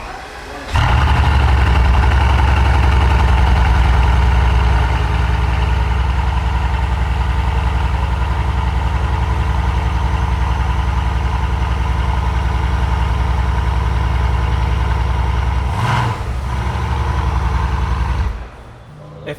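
A Bugatti Chiron hypercar engine fires up and settles into a steady, loud idle, a deep low rumble that holds for about seventeen seconds with a brief dip near the end before cutting off.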